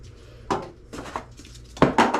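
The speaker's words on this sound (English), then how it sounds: "I'm going to stir it around pretty good" Fiberglass resin being stirred in a container, heard as a handful of scraping, clinking strokes at an uneven pace, close and fairly quiet, with short gaps between them and no speech.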